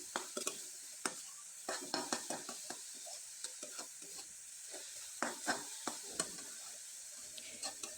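A dry vegetable filling for pineapple-shaped pitha sizzles steadily in a pan while a utensil stirs and scrapes it, giving irregular clicks and scrapes up close with no talking.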